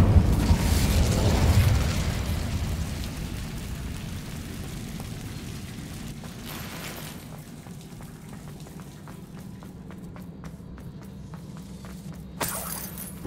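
Incendio fire spell cast in Hogwarts Legacy, opening with a loud crackling burst of flame that fades into a steady rushing, rain-like hiss, with a second brief flare near the end.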